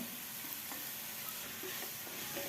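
Vegetables are added to pulao masala frying in a pan, giving a dense, continuous sizzle up close that holds steady through the short stretch.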